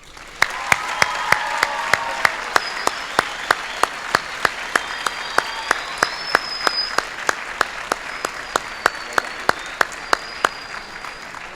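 Applause from a school assembly audience after a military jazz band performs, steady clapping with sharp individual claps standing out, sustained throughout with a few faint whistles on top.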